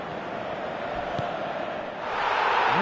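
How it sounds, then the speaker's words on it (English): Stadium crowd in a football video game: a dense, continuous roar of many voices swelling louder toward the end, with no commentary heard. "at least the crowd are appreciative of his efforts"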